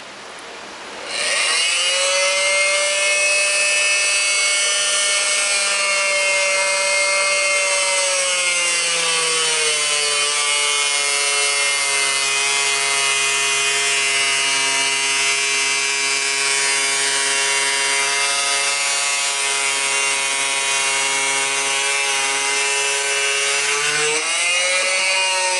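A power tool, likely a grinder or saw, cuts the tire lugs on a zero-turn mower, running as one loud, sustained whine for about 22 seconds with a slight pitch dip midway, then cuts off abruptly.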